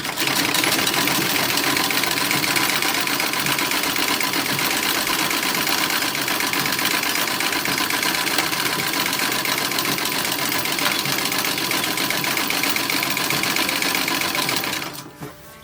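A sewing machine stitches a 1920s party dress bodice to its lining in a long, continuous, close whirring run that stops abruptly just before the end.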